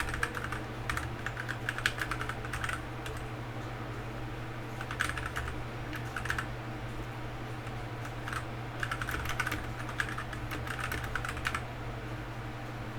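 Steady close typing of an e-mail on a computer keyboard, continuous rapid key clicks with occasional louder strokes over a faint hum, no voices.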